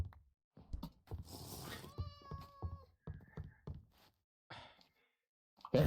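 Cat meowing in a Minecraft horror roleplay game, a few drawn-out sighing meows among short bursts of sound, with quiet gaps and a loud burst at the end.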